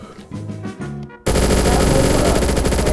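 Rapid automatic gunfire in VRChat during a prison escape, with a few sharp shots followed by a loud, sustained burst of close machine-gun fire.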